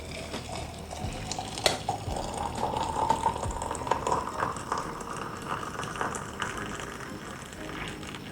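Boiling water poured into a cup of tea with cinnamon powder and ginger, a soft continuous liquid pour with light clinks of cup and spoon, close and fairly quiet.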